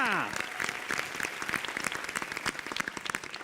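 A studio audience gives rousing applause to welcome a guest poet on a televised poetry show, a busy patter of clapping that follows a short tonal sting and continues steadily.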